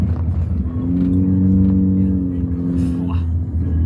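A Toyota Yaris taxi engine in Bangkok drones steadily and loudly with a low harmonic hum that rises slightly in pitch as it accelerates, heard from close by.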